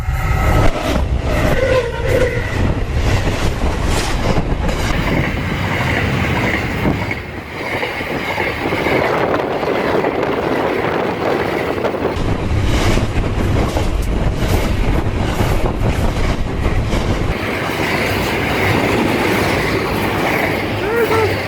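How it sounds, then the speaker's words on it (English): A train passing on a rail line near Darwin at Snake Creek, a loud sustained rumble with rhythmic clickety-clack of wheels and occasional squealing as the carriages roll by close at hand. "Here is this incredible train coming towards us, heading towards Darwin."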